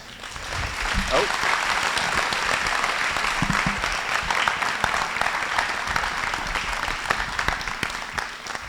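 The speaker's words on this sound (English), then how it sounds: "Let's give one more round of applause." Lecture audience applauding at the end of an endowed talk, a dense steady round of clapping lasting several seconds at moderate level, with a brief voice heard early on.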